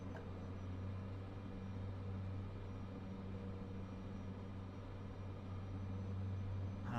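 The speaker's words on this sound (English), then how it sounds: "it sounds like it's going into reverse on its own" A steady, loud airplane engine roar from Microsoft Flight Simulator 2024, with the engine in reverse thrust, runs as a low continuous rumble for the full span with no talking.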